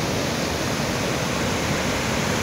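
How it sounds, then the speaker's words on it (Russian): The Upper Duden waterfall in Turkey roars as a constant, broad wash of falling water, loud and steady throughout with no voices. "Верхний Дюденский водопад с нижней точки."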